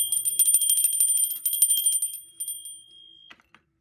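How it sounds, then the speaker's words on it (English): A small bell is rung in a quick, rapid series of bright strikes that sustain into a long, ringing tone, which fades before a couple of faint final taps. "I'm gonna ring my bell."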